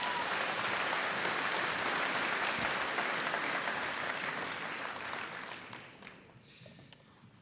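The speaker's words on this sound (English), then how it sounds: "can you give a massive round of applause to Class Kavanagh" An audience at a school graduation ceremony gives a sustained, dense round of applause, loud and steady for several seconds before tapering off toward the end with a few last scattered claps.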